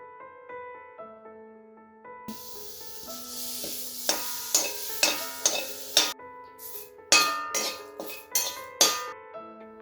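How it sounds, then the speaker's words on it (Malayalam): Coriander leaves and curry leaves roast in a pan for a Kerala-style chicken curry premix. A spoon clinks and scrapes against the pan in repeated bursts over a soft sizzle, with a steady tonal hum underneath. "ഇനി നമുക്കിതിലേക്ക് മല്ലിയിലയും കറിവേപ്പിലയും റോസ്റ്റ് ചെയ്തെടുക്കാം."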